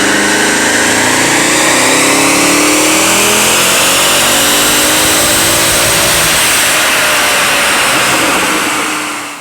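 A naturally aspirated Mercedes-AMG 6.2-liter V8 revs hard on a dyno, loud and close, its droning engine note sweeping up through a sustained pull before easing off and dropping away at the end.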